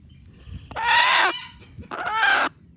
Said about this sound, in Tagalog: Gandang labuyo